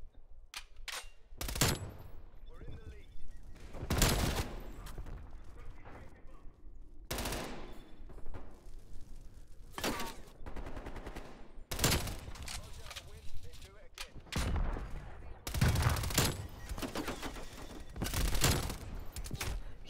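Bursts of automatic gunfire from the video game Black Ops Cold War crack out in repeated short volleys, loud and close, with a player's voice talking between and over the shots.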